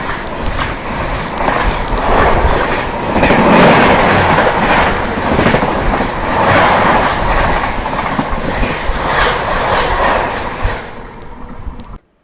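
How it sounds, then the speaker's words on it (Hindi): An Azamgarh to Delhi express train rolls past on the neighbouring track, a loud, sustained rush of wheels and rhythmic clattering close by, fading away abruptly at the end. "और अब सामने से आ रही है आजमगढ़ से चल के दिल्ली में आज एक्सप्रेस।"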